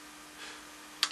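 Keys on a computer keyboard are typed during a web redirect setup, with a faint quiet stretch followed by a couple of sharp close clicks at the end, no voice present.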